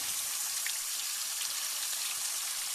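Water rushes steadily through the heater core of a 2003 Jeep Liberty with a 3.7L engine during a flush, a continuous close hiss with no talk over it.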